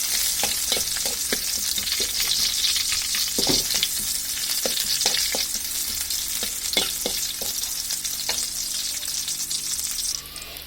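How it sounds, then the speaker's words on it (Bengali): Onions frying in hot oil in a pan give a loud, steady close sizzle, punctuated by sharp clicks and scrapes of a spatula stirring, with no voices. "এখন আমি এর মধ্যে পেঁয়াজগুলো দিয়ে দিব"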